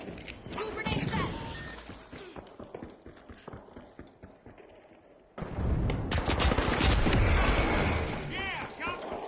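Grenade blasts and gunfire in the arena shooter The Finals, a dense, loud burst of impacts, shattering and rapid shots that drops off midway and then surges back even louder.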